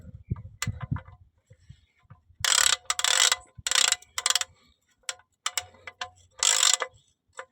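Oil filter being hand-tightened during a car oil change, giving a series of loud ratcheting, clicking bursts in irregular rhythm, close to the microphone, with a few faint knocks between them.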